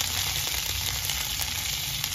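Sesame seeds and curry leaves sizzle steadily in hot oil, a dense, even crackle holding at moderate loudness throughout with no pauses or voices.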